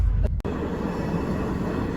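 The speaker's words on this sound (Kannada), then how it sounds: "ಇದು ಟ್ರೈನ್ ಗಾಯ್ಸ್." A train passing close by, a loud steady rumble and rattle of wheels on rails that fills the whole moment, with a brief dip near the start, no voices over it.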